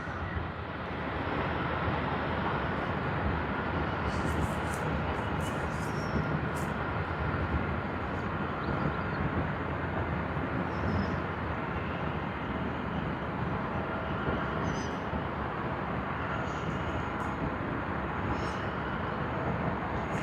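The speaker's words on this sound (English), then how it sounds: "QF44 on the Airbus A330-200, Denpasar to Sydney service." A Qantas Airbus A330-200 airliner on the Denpasar to Sydney service at Sydney Airport gives a steady, loud broadband roar that holds evenly throughout, with no voices.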